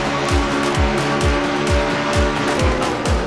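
Race cars in a racing video game crash at Oklahoma, with loud tire squeals and skids repeating in rapid, evenly spaced bursts over roaring engines.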